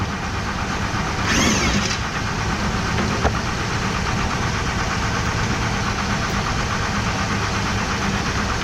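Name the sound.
Mazda Bravo V6 ute engine idling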